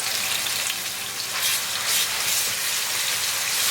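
Ginger garlic paste dropped into hot vegetable oil with cumin seeds, sizzling loudly and steadily up close with a bright, crackling hiss throughout.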